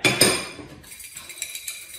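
Xoc dia gambling pieces are shaken in a bowl over a plate, giving a bright cluster of clinks and rattles at the start, then fading into softer scattered ticks, close and alone without talk.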